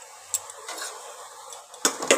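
Pasta sauce being stirred in a pan with a utensil: a soft scraping stir, then a few sharp metallic clinks against the pan near the end, close and fairly loud.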